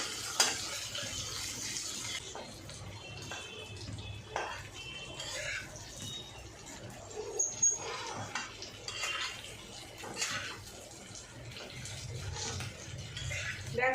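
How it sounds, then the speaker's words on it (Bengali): Chopped onions frying lightly in a pan for sambar dal, a steady soft sizzle with scattered scrapes and clinks of a spatula stirring against the metal throughout. "পেঁয়াজটাও খুব কড়া করব না হালকা হালকা ভেজে নেব দেখো"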